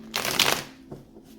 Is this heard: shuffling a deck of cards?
yes